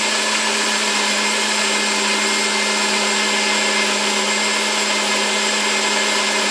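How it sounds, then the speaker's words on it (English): A bullet blender grinding raw almonds with water for almond milk, a loud constant high-pitched motor whine with a steady buzzing hum that runs unbroken from start to finish. "you're going to blend it up, put it on grind"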